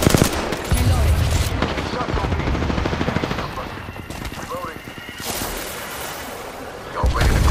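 Sustained automatic gunfire in the battle royale shooter Apex Legends, loud and close, in rapid bursts for several seconds before easing, then a fresh burst near the end.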